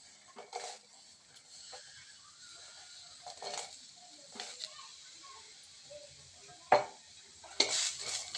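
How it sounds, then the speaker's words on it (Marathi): Cluster beans roast in a hot pan, with faint sizzling and occasional scrapes and clinks of a spatula stirring, quiet and close, with two sharper knocks near the end. "कडे तापलेली आहे तर मी गवारी आधी भाजून घेते"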